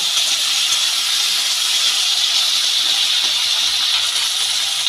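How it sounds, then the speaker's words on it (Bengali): Flat beans and slit green chilies frying in oil, a loud, dense, unbroken sizzling hiss held close throughout, with no voices or other sounds. "সিমের সাথে দুটো কাঁচা লঙ্কা চিড়ে দিয়েছিলাম সেটাকে আমি সিমের সাথে ভেজে নিচ্ছি"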